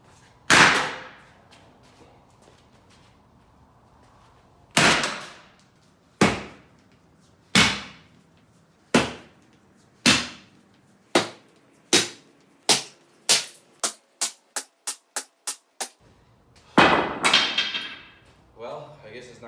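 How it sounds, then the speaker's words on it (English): Repeated sharp impacts on a car radiator, single heavy blows at first, then speeding into a quick run of strikes before a final rough burst. The hits are loud and close, with no talk between them. "It's very difficult to break the radiator."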